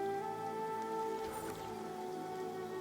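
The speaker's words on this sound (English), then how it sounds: "Because you can see the rain gathering." Rain falling steadily in the Arknights Endfield game world, a constant close hiss of drops on surfaces, broadband and even throughout, with faint steady tonal ambience underneath and no talk.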